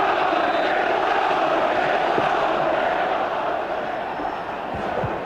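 A full-house 35,000 football crowd at Hillsborough, Sheffield, roars and murmurs in a continuous, broad wash of stadium noise as a match kicks off, with a commentator's voice faintly over it.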